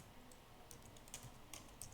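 Light, quick typing on a computer keyboard as data is entered into an Excel spreadsheet, a faint, steady patter of key clicks with no talk over it.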